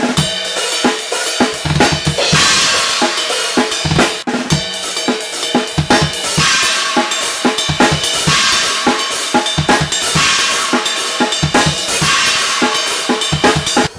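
A drum kit plays a fast shuffle groove, with busy hi-hat and snare hits and crash accents recurring every couple of seconds, loud and steady.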